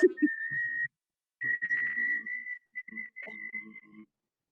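A person whistles a steady high tone while humming or singing lower notes at the same time, in three short phrases with brief pauses, close and clear.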